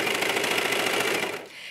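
A serger stitches stretch fabric for a sports bra tank with a fast, even mechanical chatter at close range. It runs steadily, then slows and fades out near the end.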